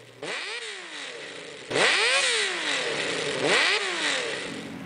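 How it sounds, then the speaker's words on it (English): A Honda CBX1000, an early-1980s muscle bike, revs hard three times, each throttle blip rising in pitch and sliding back down, loud and close with a steady idle between bursts. "The Honda CBX1000."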